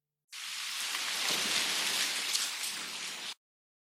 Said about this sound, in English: He climbed when it rained.